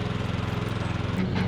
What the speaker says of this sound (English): this 2001 Craftsman LTX 1000 lawn tractor with a cup holder